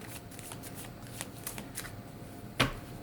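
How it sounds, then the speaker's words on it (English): Tarot cards are shuffled close by, a soft rapid riffling with quick bursts and one louder snap near the end, with no talking. "that just came to me as I was shuffling"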